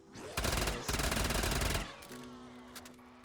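A pocket LMG in Black Ops 3 zombies rattles off a long, rapid burst of automatic fire with a brief pause, then the game's ambient hum and faint effects take over.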